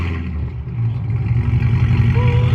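A 730HP Corvette engine running close by, a deep, rumbling idle that swells into louder revs.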